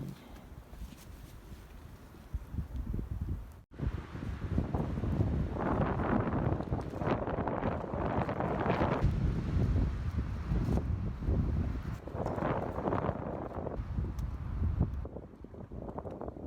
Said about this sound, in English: See the trees on this side blocking the wind for me.